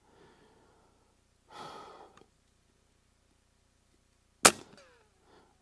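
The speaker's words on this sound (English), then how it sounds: "We're going to give it 2 more shots and see if I can hit it," An Avenge-X Classic .177 air rifle fires a single sharp crack at a long-range steel target, preceded by an audible breath and followed by faint ringing and a soft noise; close and otherwise quiet.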